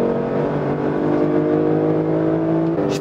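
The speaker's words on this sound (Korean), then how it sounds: "시프트 다운을 할 때 이 엔진 사운드의 변화, 반응 상당히 액티브한 다이나믹한 그런 느낌 전해주고 있습니다." A Lexus LC 500 convertible engine revs up on kickdown in sport mode with a rising, strained whine, holding loud and close before the pitch shifts briefly near the end as it downshifts.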